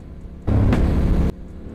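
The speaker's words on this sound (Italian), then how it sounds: "goderci il rumore di queste fantastiche moto" Yamaha Ténéré motorcycles accelerating off-road: a loud, rough engine roar swells in about a second long over a quieter engine rumble, then drops back to the lower background drone.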